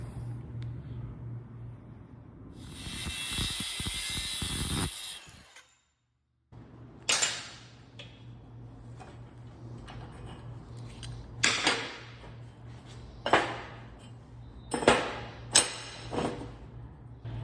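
Metal is cut by hand for a hasp and backing plate, with a sustained rasping stretch, a short pause, then irregular scraping and clinking strokes, close and fairly quiet, with no talking.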